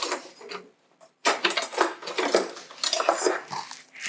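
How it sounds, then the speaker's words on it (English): Black beans and potatoes being stirred together in a cooking pot, with a utensil scraping and clattering against metal in irregular close bursts after a brief pause, no talk. "mix our black beans with our potatoes"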